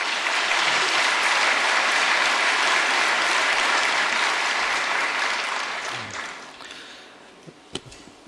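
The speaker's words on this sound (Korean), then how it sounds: "목사님 나오실 때 큰 박수로 맞이하겠습니다." A church congregation applauds warmly at an early-morning special prayer service as the pastor comes forward, steady dense clapping that holds for about six seconds before thinning out, with a few scattered final claps.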